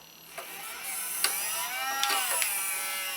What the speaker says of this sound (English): Now I'll go ahead and I'll let the winch out because the winch kind of helps hold it in.